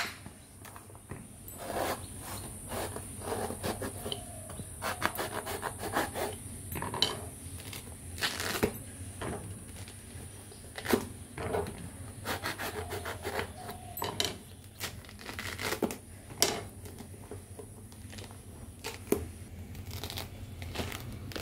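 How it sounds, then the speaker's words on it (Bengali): A pomelo is cut and its thick peel pulled apart by hand, giving repeated close, crisp tearing and crunching snaps in irregular bursts over quiet background, no talking. "লেবুটা কাটছি।"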